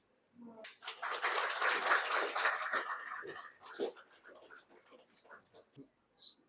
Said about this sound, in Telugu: మనకు మనమే ఒకసారి చప్పట్లు కొట్టుకుందాం